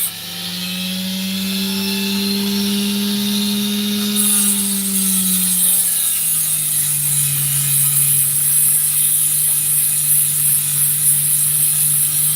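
A saw cutting an opal stone in half gives a loud, steady mechanical whine with a sustained tone that drops in pitch partway through as the blade bites, continuous and close for the whole stretch.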